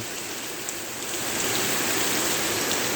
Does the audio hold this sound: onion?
no